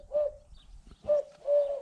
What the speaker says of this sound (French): Une tourterelle dans le dans la maison.